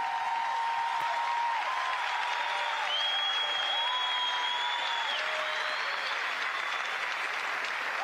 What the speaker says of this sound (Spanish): With a strong applause. A la pastora. To Pastor Evelyn Joshua.